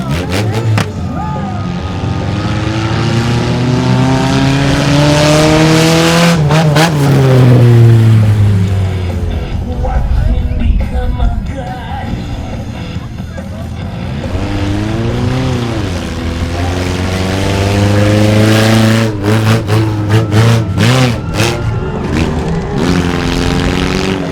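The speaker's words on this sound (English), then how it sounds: "Mini monster trucks. Lots of horsepower." Mini monster truck engines rev loudly at Potomac Speedway, a continuous roaring drone with rising and falling pitch sweeps as throttles open and close, close and sustained throughout.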